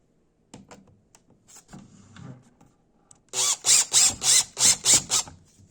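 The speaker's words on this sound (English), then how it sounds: "not a power screwdriver like I'm about to do" A power screwdriver drives screws into a cheap particle board end table with a charging station, giving about seven loud, close, whirring bursts in quick succession after a few soft handling knocks and rubs.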